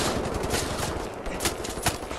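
A turret gun in Wolfenstein: The New Order fires in a rapid, continuous stream of heavy automatic bursts, loud and close throughout.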